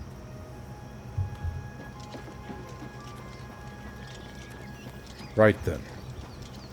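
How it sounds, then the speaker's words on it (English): Horse hooves clip-clopping in the video game Oblivion Remastered, a few sparse soft hoof steps against a quiet ambient background, followed by a brief short vocal sound near the end. "the horse is back"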